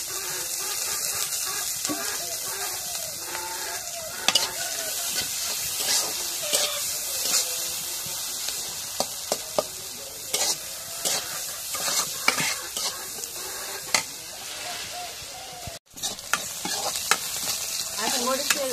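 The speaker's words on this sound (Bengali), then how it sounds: "এখন মরিচ দিয়ে ভাজা হয়ে গেছে" Chili frying in hot oil in a pan sizzles steadily with frequent scraping stirs clattering against the metal, close and loud throughout, with one brief break near the end.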